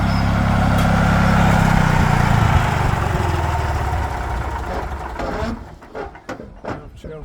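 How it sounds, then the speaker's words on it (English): A tractor driven by Huey idles during farm planting. The steady, fairly loud engine rumble holds for a few seconds, then fades as it moves off, leaving scattered faint outdoor noises. "here comes Huey on the tractor again"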